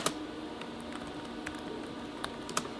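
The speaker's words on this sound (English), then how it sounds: "So I'm just going to type in my password." A password being typed on a computer keyboard: soft, quiet, irregular key clicks tapping in short bursts with no voices.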